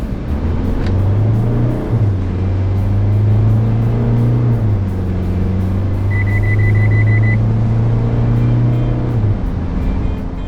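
A 2024 Isuzu D-Max X-Terrain diesel pickup accelerating hard from inside the cab, its engine droning loud and steady with a pitch that climbs, dips at a gear change, then holds before easing off.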